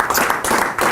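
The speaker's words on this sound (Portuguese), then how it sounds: "peço uma salva de palmas à Dina." An audience gives a round of applause for a guest during an interview. Dense, loud clapping continues throughout the brief moment.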